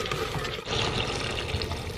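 Water is poured into a cooking pot holding wilting vegetables and a little vinegar, ahead of boiling for fish; a steady, soft splashing pour runs for about two seconds without talk.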